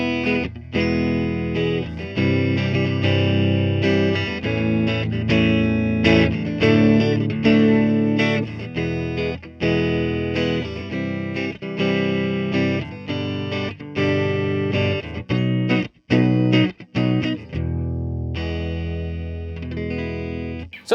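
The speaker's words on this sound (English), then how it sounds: "here are our clean tones in a single coil with these new vintage speakers in here." An electric guitar with a single-coil pickup plays clean chords and melodic lines through a 1973 Peavey Classic 212 amplifier with vintage speakers, full and continuous, loud and close with brief pauses near the end.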